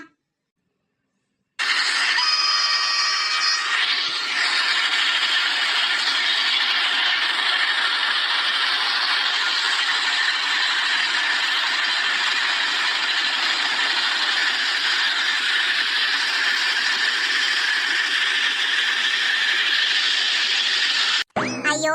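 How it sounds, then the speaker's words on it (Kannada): A steady, loud mechanical rumble and rattle of a train pulling out, with clanking metal and a squealing ratchet-like clatter early on, continuing without pause. "ಟ್ರೈನ್ ಹೊರಡ್ತು ಅಂತ ಕಾಣ್ತದೆ"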